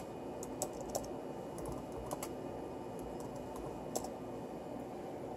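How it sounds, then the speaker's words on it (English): Keystrokes on a computer keyboard as commands are entered, a handful of light, irregular clicks spaced out over a quiet background hum. "You're going to want to type these commands in."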